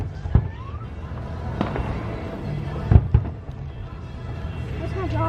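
Fireworks exploding over Indian Lake on a July night, a few sharp distant booms and pops spaced apart under a background hum, with faint voices nearby.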